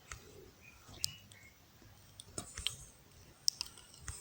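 A computer mouse clicks a few times, sharp isolated taps spaced irregularly over quiet room tone.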